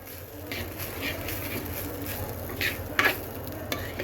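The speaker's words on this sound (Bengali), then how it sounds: "আদাটা সুন্দর করে চালের মধ্যে মিক্সড করে দিলাম এবার চালটাকে সুন্দর করে ভাজে" Rice and ginger stirred and fried in a pan, with a steady low sizzle and scraping spoon strokes recurring every half second or so, close and moderately loud with no talk.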